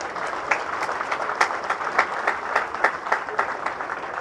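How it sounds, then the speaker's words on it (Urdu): Steady applause from parents and siblings fills an award ceremony, a dense patter of many hands clapping at once, fairly loud and continuous throughout. "آپ کے ماں باپ جو ہیں اور بہن بھائی جو ہیں وہ تالیاں بجا رہے ہیں"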